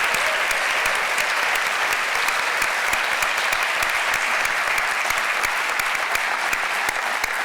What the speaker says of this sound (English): I want to give the students a big round of applause.